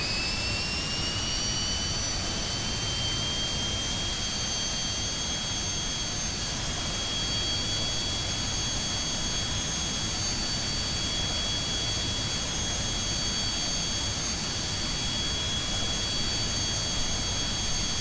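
In the X-Plane 11 flight simulator, a jet airliner lands on a taxiway. A continuous loud jet engine roar with a high whine rising and then holding steady, close and unbroken throughout, with no voices.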